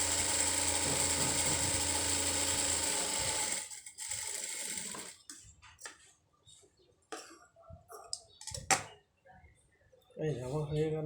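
A sewing machine runs steadily through a stitch on a dress, a continuous mechanical whir for about three and a half seconds, then stops, leaving scattered clicks and handling knocks with a brief murmur near the end.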